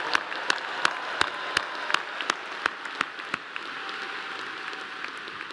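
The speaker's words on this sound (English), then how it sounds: "Will you also please give a big, loud round of applause to Ansley for the great job she did singing" Graduation ceremony audience in a large hall applauds after the national anthem, soft, diffuse clapping filling the space, with a regular series of sharp, evenly spaced clicks or taps sounding over it.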